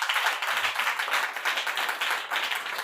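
A church congregation applauds and cheers for Jesus during a Wednesday sermon, steady dense clapping from many hands filling the space, loud and continuous throughout.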